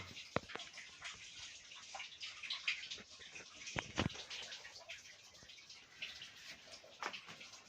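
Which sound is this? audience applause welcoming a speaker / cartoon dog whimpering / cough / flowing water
flowing water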